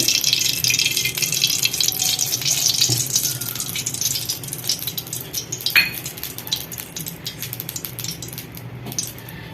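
Ghee and oil go into a pan for rava pongal, and soft kitchen clatter follows, with light utensil scrapes and faint liquid sounds over a steady low background, plus one sharper clink near the middle.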